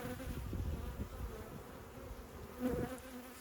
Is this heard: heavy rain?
no